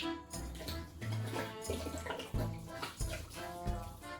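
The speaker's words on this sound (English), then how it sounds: "I'm just gonna pour in the rest of the bottle of apple cider vinegar." Apple cider vinegar pours from a bottle into pickled watermelon rinds in a kitchen, a continuous gurgling liquid stream with glugging pulses for about four seconds.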